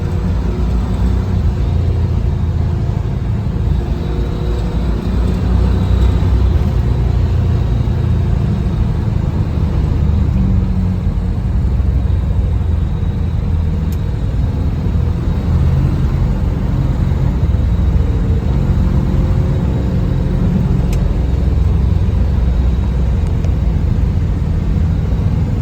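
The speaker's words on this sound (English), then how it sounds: "Car shifts through all the gears the right way." A 1971 Chevrolet Camaro RS SS 396 V8 drives along with a steady, heavy low rumble throughout, heard from inside or close by, with no talking.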